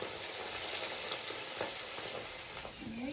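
Fish pieces frying in oil in a kadai, a steady dense sizzle and crackle filling the space from start to finish, close and fairly loud, with faint scraping stirs and no talk.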